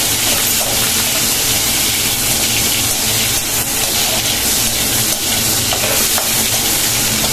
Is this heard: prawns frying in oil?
yes